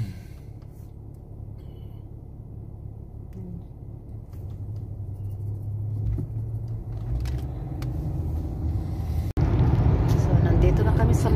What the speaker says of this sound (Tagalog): Dito na kami sa motorway.